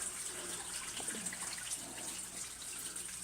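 Hot dishwasher water flowing through a sewer pipe: a faint, continuous trickling and splashing rush with small drips, steady and quiet throughout with no talk.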